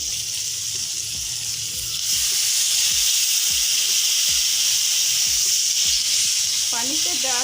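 Water poured into a pan of frying chicken and onion sets off a loud, steady hissing sizzle that swells and stays strong, with brief stirring scrapes and a faint voice near the end.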